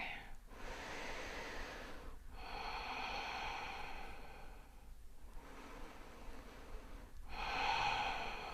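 Slow, deep breathing during a hatha yoga pose for the hips, long airy inhales and exhales repeating in a steady rhythm, close and clear with faint room noise between breaths.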